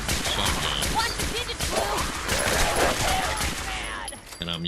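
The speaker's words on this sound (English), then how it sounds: "I'm using the exploding sniper rifle more than anything" Rapid bursts of exploding sniper rifle fire in the video game Fallout 4 crack and boom in dense, overlapping volleys, loud and close, with voices present amid the shots.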